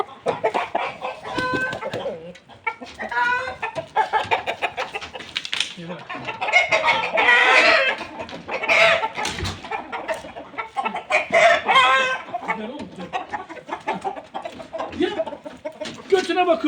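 Hens cluck busily close by while a rooster crows, mixed with frequent human talk throughout.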